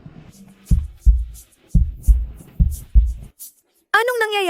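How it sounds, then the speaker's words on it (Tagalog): A fast heartbeat sound effect: deep, muffled, evenly spaced double thumps repeating quickly and close, followed by a swelling tonal whoosh at the end, with no speech. "Bakit ang bilis ng tibok ng puso ko?"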